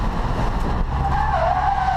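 A Honda Civic race car at Silverstone Circuit locks its brakes and skids, a loud engine roar under a rising tire squeal that wavers near the end, with no talk over it.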